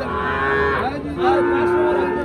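Cattle, young heifers at the traditional Rasulpur cattle market in Bangladesh, moo loudly and close by, two long, drawn-out lowing calls one after the other over a busy background.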